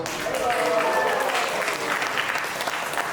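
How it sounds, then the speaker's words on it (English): A crowd gathered for a Hindu initiation ceremony claps for one of the initiates in sustained, even applause with some murmured voices beneath it. "big round of applause."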